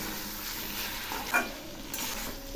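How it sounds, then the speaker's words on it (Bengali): Spices and mustard paste sizzle and fry in a pan with pumpkin greens while a spatula stirs, producing a soft continuous crackle with a couple of brief scraping clinks. "এই সর্ষেগুলো একটু হালকা করে ভেজে নেব"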